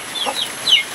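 Backyard chickens give a few soft, close clucks during rain, brief and scattered over a light steady hiss.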